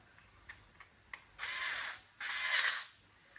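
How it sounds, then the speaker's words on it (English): A power drill driving screws into a 1/8-scale RC buggy whirs in two short bursts, preceded by a few faint clicks and taps nearby. "my drill just won't go very tight"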